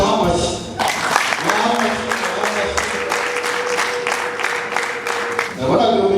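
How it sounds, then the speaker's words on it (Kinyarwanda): An audience at a stage performance claps steadily, loud, dense applause in the room that swells between voices heard at the start and the end. "mubaha amashyi"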